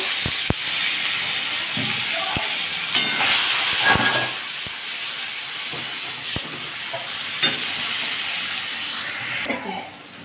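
Ginger and fennel paste fries in hot oil in a pan, a continuous loud sizzle and hiss with occasional stirring clicks of a utensil, and no talking.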